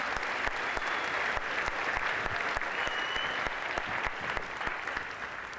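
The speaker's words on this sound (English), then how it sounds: "Let's have a round of applause for Rosemary" An audience at a juggling convention stage show applauds after a card trick act, producing a steady wash of many hands clapping at an even level, with a few sharper claps standing out.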